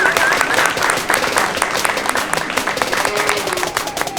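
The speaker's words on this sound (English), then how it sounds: "Let's give these heavyweight kids a nice round of applause." Spectators at a 4-H livestock show applaud the heavyweight class, a loud crowd of clapping hands with a few sharper nearby claps and faint voices mixed in.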